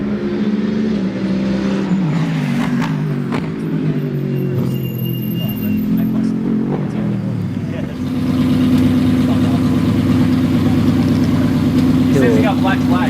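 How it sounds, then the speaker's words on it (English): An Aston Martin race car engine idles loudly, then its rumbling drone rises and steadies into a louder, rough roar on a track; someone talks over it. "this car is so friggin' loud that we got black flag"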